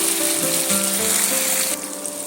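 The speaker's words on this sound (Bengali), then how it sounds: "টমেটোটা আমার এখানে ভাজা হয়ে গেছে এবার আমি একে একে সব মশলাগুলো এর সঙ্গে যোগ করে দিয়ে দিচ্ছি" Loud, close sizzling of tomatoes frying in a pan, with spices added, under a faint steady tonal hum; the hiss drops to a quieter level near the end, no talking.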